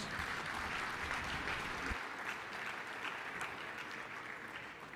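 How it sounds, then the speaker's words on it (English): Audience applause at a military symposium in Huntsville, Alabama, following a fireside chat, a broad wash of many hands clapping that stays steady then eases slightly, heard from a distance at modest level. "Let's give him another round of applause."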